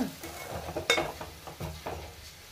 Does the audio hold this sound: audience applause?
no